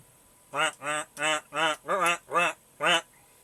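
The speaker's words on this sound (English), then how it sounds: "you hear a lot of quacking and etc. coming from an area behind" A duck quacks loudly and close by, seven distinct harmonic calls in a steady rhythm with brief gaps, with no talk.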